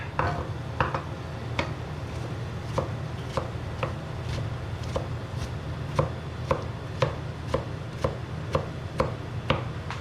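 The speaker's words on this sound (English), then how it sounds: "Just dicing it up." A knife dices an onion on a cutting board in a home kitchen, a steady run of sharp, evenly spaced chops close by over a low constant background hum, with no talking.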